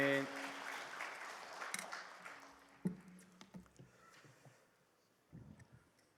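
Applause in a church as a pastor comes forward, a short burst of clapping that quickly thins to scattered claps amid voices and faint background sounds.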